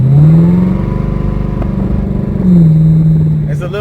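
A straight-piped Chevrolet Camaro ZL1 drones loud and close from inside the car while driving on a wet road, a deep steady rumble that swells twice as the revs climb.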